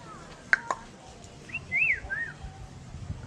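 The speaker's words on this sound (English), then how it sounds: "They got birds everywhere." Birds at Bali Bird Park give a couple of sharp chirps, then a clear, loud whistled call with rising and falling notes, close by over faint background murmur.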